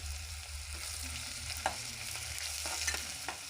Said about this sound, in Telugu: పచ్చి వాసన పోయేంత వరకు వేయించుకోవాలి కొంచెం కరివేపాకు